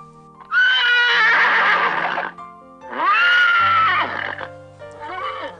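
A horse whinnies loudly in two long, wavering neighs, with a shorter third one starting at the end. The horse is a sound effect in a children's story, over a soft background tone.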